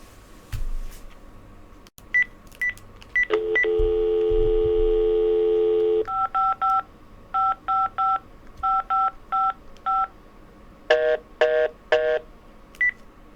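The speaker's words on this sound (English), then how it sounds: "Let me get Henry on the phone right now" A telephone number is dialed on a phone during a live-stream call: a short dial tone, then a quick run of clear, loud DTMF keypad tones in spaced bursts, with no talking.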